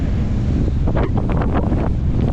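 Wind buffets the microphone continuously while cycling near a pond in Poltava, a loud low rumbling roar with gusty swells throughout.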